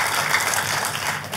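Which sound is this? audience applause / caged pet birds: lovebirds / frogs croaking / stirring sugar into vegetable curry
audience applause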